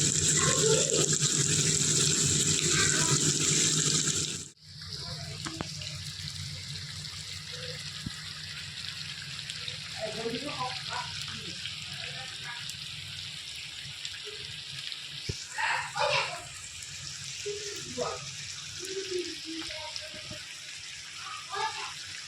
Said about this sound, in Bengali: আর পাশে কিন্তু আমি গরম জলও করে রেখেছি, সেটাই এর মধ্যে দিয়ে দিলাম।